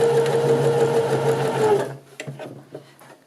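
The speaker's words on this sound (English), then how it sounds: "And then off we go, start sewing." A Janome sewing machine runs at a steady whirring hum close by, then stops abruptly, leaving a few quiet clicks and handling sounds.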